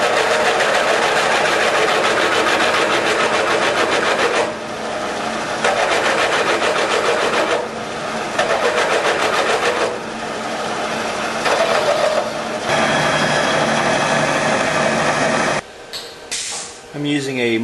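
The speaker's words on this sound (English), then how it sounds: "I've installed my tool for cutting the guide to length." A valve-guide cutting tool trims guides to length on a 324 Oldsmobile Rocket 88 cylinder head, giving a loud, steady mechanical whir that briefly dips around a few moments and stops near the end.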